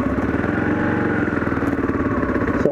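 Kawasaki KLR650 motorcycle engine under way, a loud, close, steady chugging thump with a fast regular pulse and mechanical clatter, running alone without talk.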